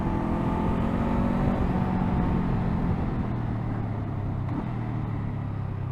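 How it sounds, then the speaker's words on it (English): A 2024 Honda SCL500 scrambler motorcycle being ridden on the road, its engine droning steadily up close, with the pitch stepping down audibly as it downshifts, alongside constant wind rush. "Let's do some downshifts, and let's get this green light."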